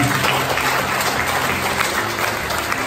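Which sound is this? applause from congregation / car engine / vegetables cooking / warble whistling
applause from congregation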